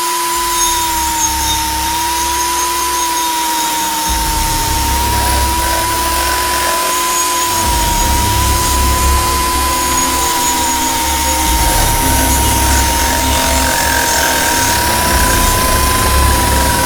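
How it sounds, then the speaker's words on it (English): A power drill runs close and loud without pause, a steady high whine over a low mechanical rumble that comes and goes. "now you're putting a drill with it running"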